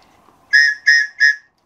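Three short, shrill blasts from a survival kit whistle, each about a third of a second long and spaced evenly. They sound close and loud against near silence.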